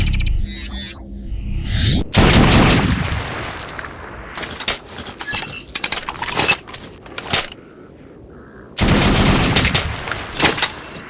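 The Absatz automatic shotgun firing in an FPS video game, loud rapid blasts in quick bursts with mechanical clicks and rattles between, a sustained volley at the start and another near the end.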